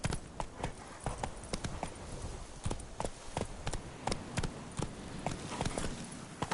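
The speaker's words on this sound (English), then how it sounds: "Come on, Roach" Hooves of a horse named Roach in The Witcher 3 video game clattering in a fast, steady galloping rhythm of sharp clip-clop strikes, close and loud over a rumbling background, no voices.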